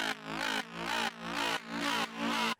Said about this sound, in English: This sounds kind of like a talk box or something like that.